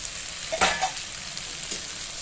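Malabar spinach cooking with spices in a pan sizzles and fries steadily, with a brief louder hiss and a stir or two near the start, then a soft continuous crackle.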